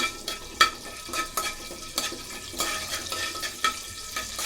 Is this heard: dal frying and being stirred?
yes